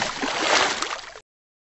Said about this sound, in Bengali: এভাবে নৌকার দুই পাশ থেকে 2টি চুম্বক নদীতে ছুঁড়ে মারা হলো।